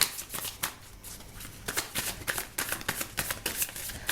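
Tarot cards shuffled by hand in quick riffles and slaps, a close, crisp, papery flutter repeating in rapid bursts for several seconds with no talking.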